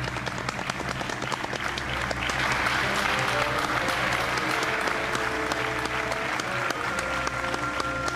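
A crowd's continuous applause fills the scene in a 2006 Azerbaijani drama film, even and unbroken throughout, a thick bed of many hands clapping with no voices on top.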